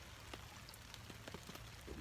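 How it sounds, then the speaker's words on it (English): Rain patters on a hammock camp tarp at night, a soft continuous wash broken by scattered sharper drops tapping on the fabric, with no voices. "it's not pouring, but it's raining hard enough"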